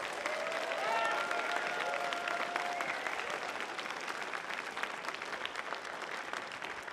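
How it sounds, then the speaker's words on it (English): Sustained applause from a large audience at a festival closing ceremony, a dense wash of clapping that stays steady for several seconds, with faint voices and a sustained tone briefly audible early on. "let's give a real big round of applause to our staff and volunteers"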